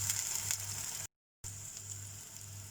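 A tablespoon of ginger garlic paste sizzles in a pan, a soft continuous fry close by that cuts out for a moment before resuming, with no voices.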